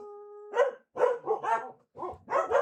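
Several dogs barking in loud, close bursts, a handful of sharp yaps in quick succession with short gaps, following a faint steady electronic tone at the start.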